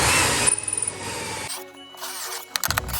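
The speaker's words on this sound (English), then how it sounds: "Then I'll drill out either end of what will become the handle with a 25mm hole saw." A drill fitted with a 25mm hole saw bores into plywood, first a loud steady whine of cutting for about a second and a half, then quieter bursts of the saw biting the wood.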